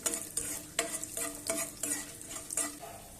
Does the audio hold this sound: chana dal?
yes